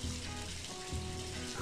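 A shower running in Roblox Bloxburg, a quiet continuous spray of water with a faint low hum beneath and slight swells in the flow.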